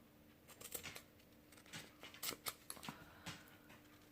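Scissors snip repeatedly around craft material for a Dollar Tree Christmas door hanger, an uneven run of close, faint clipping cuts with small rustles between them, no talking.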